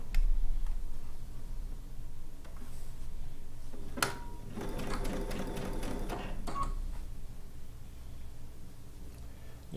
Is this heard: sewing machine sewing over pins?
yes